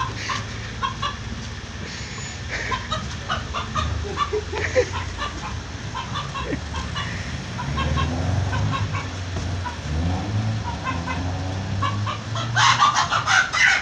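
Chickens cluck and squawk repeatedly close by over a steady outdoor rumble, growing more agitated and loud near the end.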